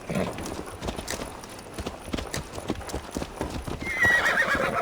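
Several horses in Assassin's Creed Valhalla clip-clop steadily on hard ground nearby, and a shrill neigh breaks out toward the end over the hoofbeats.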